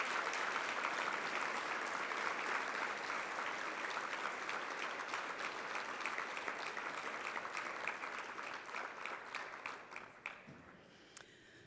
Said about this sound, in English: A round of applause in memory of Chuck.